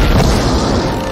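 An explosion from the movie The Matrix makes a loud, dense roaring boom that fills the whole second with rumbling blast noise.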